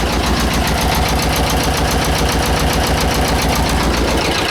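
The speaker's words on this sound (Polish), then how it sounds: "tutaj widzicie ciągnik jak na razie sprawuje się ok temperatura jest w normie" A tractor engine runs loud and close with a steady, rapid mechanical knocking rhythm throughout.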